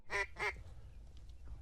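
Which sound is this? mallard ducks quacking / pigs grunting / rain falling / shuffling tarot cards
mallard ducks quacking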